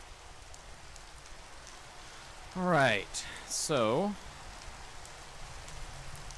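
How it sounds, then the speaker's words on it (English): Steady soft rain patters on in the SevTech Ages Minecraft game, a continuous faint hiss that continues under a brief spoken line from a player. "Now, let it rain."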